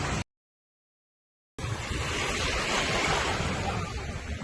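Waves wash onto a Jamaican beach in a steady broad roar with wind noise, after a brief gap of silence near the start.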